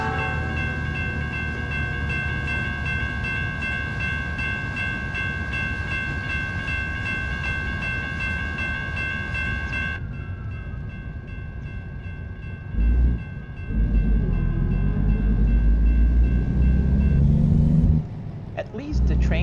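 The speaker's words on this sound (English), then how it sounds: "At least the trains are not big here." Trains rolling past in American Truck Simulator, a sustained rail rumble with horn-like tones that cuts off midway, followed by heavier engine rumble bursts while someone talks over the game sound.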